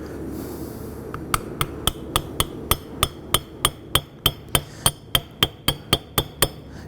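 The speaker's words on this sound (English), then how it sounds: "You want to go ahead and tap this down." Steady, evenly spaced metallic taps, about twenty in a row, as a hammer seats the cap on a CV joint of a 2002-2007 Jeep Liberty; close, sharp and ringing, with no talking.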